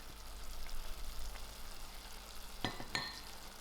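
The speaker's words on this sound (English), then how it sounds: "My mince has come to a fry, and I'm going to just throw in my mixed veg." Mince and mixed vegetables frying in a pan, a steady soft sizzle with a couple of sharp clinks of a utensil near the end.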